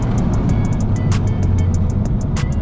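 A 2017 Honda Civic hatchback FK7 fitted with PowerStop brakes drives during brake bedding runs, a steady loud road and engine rumble from inside the car with faint ticking clicks over it, no talking.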